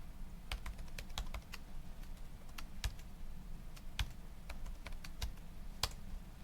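Quiet, rapid keystrokes on a computer keyboard, a continuous irregular run of light clicks with occasional sharper taps over soft background hum.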